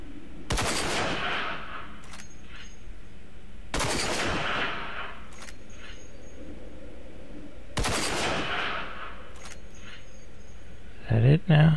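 Gunfire in the video game RAGE comes as three loud automatic bursts spaced a few seconds apart, each followed by a fainter shot, with a voice heard briefly at the end.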